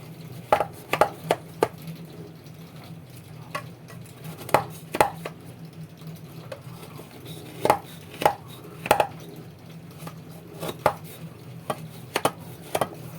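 A knife chops hot Alexandrian Hegazia dessert into pieces in sharp, irregular knocks against a board, some in quick pairs and others spaced apart, close and clear over a quiet kitchen hum.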